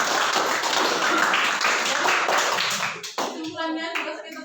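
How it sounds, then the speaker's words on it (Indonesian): Classmates applaud together in a classroom, a dense burst of clapping hands lasting about three seconds before thinning out as a voice begins speaking. "tepuk tangan untuk teman kita"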